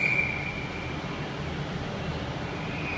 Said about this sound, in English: Virgin Trains is now departing to London, Euston.